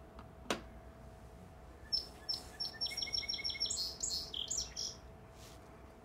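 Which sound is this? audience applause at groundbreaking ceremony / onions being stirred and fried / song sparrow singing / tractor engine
song sparrow singing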